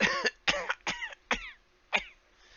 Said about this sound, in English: You hear some shuffling in the house, and then some coughing.